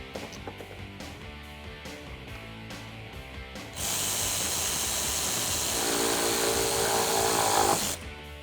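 A ratchet with an 8mm socket tightens bolts on a Jeep Wrangler JL grille, first with several short clicking bursts, then a loud, steady hiss that runs for a few seconds, with no talking.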